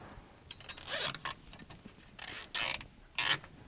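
A zip tie ratchets tight around a wrapped racing harness belt in several quick zipping bursts, each a short rasping pull followed by a pause, fairly close and alone.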